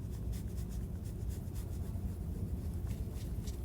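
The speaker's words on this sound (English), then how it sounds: "I'm going to erase" A board eraser scrubs writing off a classroom board during an algebra lesson, giving a steady, continuous rubbing hiss up close that runs without pause and with no talk over it.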